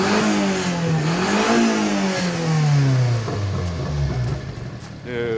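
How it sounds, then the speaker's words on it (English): A 1992 Subaru Sambar KS4 minitruck engine with a broken exhaust revs up and then drops back, its pitch rising, then sliding down over several seconds with a raspy gargle, loud and close, and a voice talks over it. "let's rev it up a little more"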